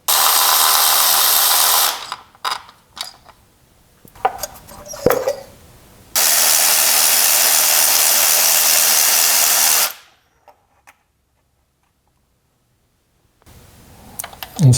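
Power tool with a 10mm socket removing the ignition coil screw on a Kia Sportage: a short whirring burst, clicks and handling noises, then a steady four-second buzzing run, followed by silence.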